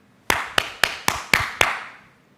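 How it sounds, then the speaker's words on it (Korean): A preacher claps his hands for emphasis during a dawn church service, six sharp, evenly spaced claps in quick succession, fairly close and alone, each with a short ringing decay in the room. "박수를 치는 것은 강조하기 위해서"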